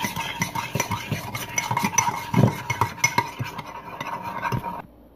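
A spoon stirs sugar and cocoa mug cake mixture in a cup, producing close, repeated scraping and clinking strokes with no voices, ending abruptly.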